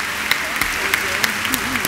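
An audience at the 2008 Kral Türkiye Music Awards applauds an honorary award. Scattered claps patter steadily through the hall under a voice and some tonal sound.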